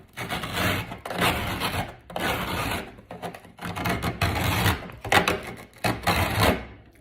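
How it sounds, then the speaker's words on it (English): Stuck-on food is scrubbed off a pan in bursts of close, harsh, rasping strokes separated by brief pauses, with no voices. "That's gonna take a lot of scrubbing."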